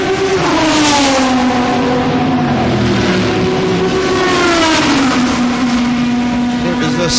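Loud Corvette race cars roar past at a racetrack, their engines droning hard with pitch sweeping down as they pass close by, a brief spoken word buried under the continuous engine noise.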